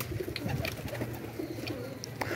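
Low, soft cooing of several high-flyer pigeons blends into a steady murmur, with occasional faint chirps and rustles above it.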